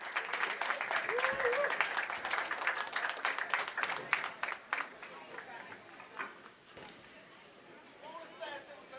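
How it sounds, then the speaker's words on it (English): Applause breaks out for youth bowlers at a national championship, with a crowd clapping steadily for several seconds before the sound thins to scattered claps and a quieter room. "Let's give a big round of applause as we send them off."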